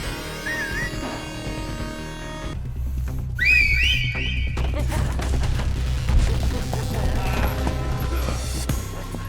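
A few short whistle calls to summon goons in Street Fighter 6, with rising and wavering pitch over game background noise, followed by heavy crashing and rumbling action sounds.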